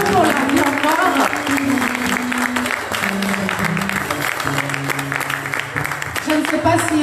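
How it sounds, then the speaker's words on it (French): A church congregation applauds and cheers after the sisters sing, a dense steady clapping from a nearby crowd, with voices and some sustained tones mixed underneath throughout. "vraiment on peut les applaudir, les acclamer"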